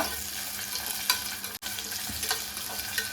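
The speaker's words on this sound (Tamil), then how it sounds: "2 வெங்காயம், நல்லா வதங்கட்டும்" Two onions sautéing in a pan with cinnamon and cardamom, a steady close sizzle with brief scraping stirs and one momentary break.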